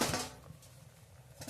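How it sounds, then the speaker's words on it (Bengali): Lid lifted off a cooking pot of peas simmering on a stove, giving a brief metallic clank at the start followed by faint kitchen background. "ঢাকা খুলে নেব।"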